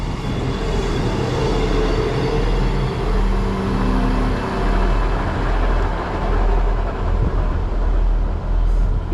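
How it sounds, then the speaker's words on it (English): A ScotRail Class 158 diesel unit pulls into a station on the Wick service, a steady close rumble of engine and wheels on rails with faint tonal hums, continuous and fairly loud. "arriving in now is our train, which is going to be 158 711, which is on the 13:54 ScotRail service to Wick"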